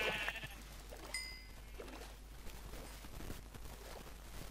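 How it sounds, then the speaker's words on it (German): Sheep in Minecraft give a few short bleats, quiet and somewhat distant, with soft background noise in between. "Drei Schafe."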